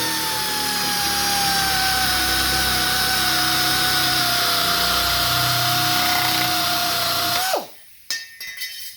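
Air-powered sheet metal cutter slicing through sheet metal, a loud, steady high-pitched pneumatic whine with a grinding edge that runs continuously for several seconds, then drops off abruptly as the tool stops, leaving quiet clicks.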